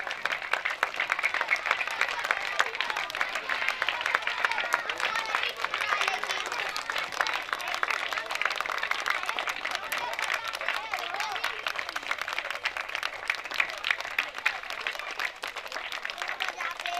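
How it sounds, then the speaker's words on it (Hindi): Audience applause at a school annual day function, steady dense clapping from a crowd sustained throughout, moderately distant, with faint voices mixed in. "बार बार हजरात आप लोगों की तालियां रुक जा रही हैं।"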